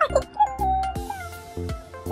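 Small dog making a few short yips and whimpers, close by with brief pauses between, while people react around it.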